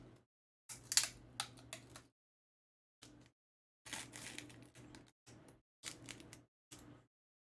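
Protective film peeled off a Logitech G Pro Wireless mouse during unboxing: a series of short crinkly, crackling bursts and tearing strips with brief pauses between, close and fairly loud, no voices.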